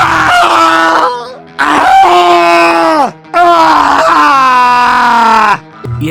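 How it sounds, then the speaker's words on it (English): Demoman, the character from the video game Team Fortress 2, screaming: three long, loud, strained vocal yells close up, each trailing off with brief gaps between them. "For context, listen to Demoman screaming.mp3."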